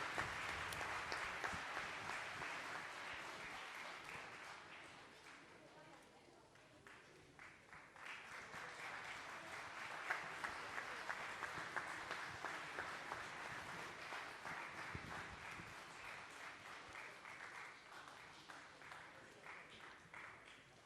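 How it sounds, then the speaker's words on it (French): Sustained applause from an audience at a French town's 2017 New Year's greetings ceremony, steady and moderately distant, with a brief dip midway before picking up again and continuing evenly to the end. "on peut les applaudir"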